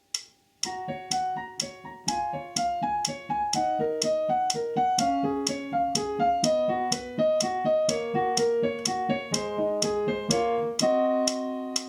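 Piano intro of Lavender's Blue (Dilly Dilly) at a lively tempo, with crisp clicking beats marking time over chords and a repeating melody, steady and clear with no talking.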